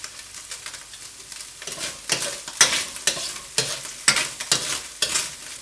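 Beef is stir-fried in a wok with steady rhythmic scraping and tossing strokes over a loud, continuous close sizzle, the strokes roughly every half second.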